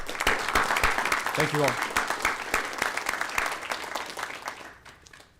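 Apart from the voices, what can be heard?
audience applause at board meeting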